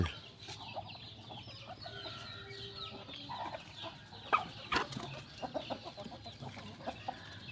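Chickens cluck and chatter in a barnyard, a steady scattering of short calls with a few louder squawks nearer by, over low background noise.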